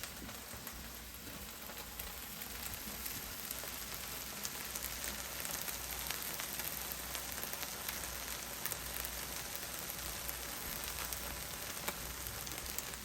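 Ground sausage frying in a pan for breakfast, a faint, even crackle and hiss that runs steadily with tiny pops scattered through it and no voices.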